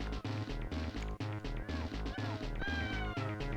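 Lemmings in the Lemmings video game let out cat-like squeals and mewling cries in short repeated bursts, layered over loud, steady game music.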